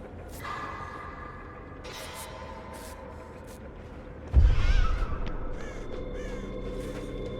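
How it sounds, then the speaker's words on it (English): Crows cawing inside the Dead by Daylight video game, a scatter of harsh calls over steady game ambience, with a louder thumping burst partway through. "You bat the birds away as you run."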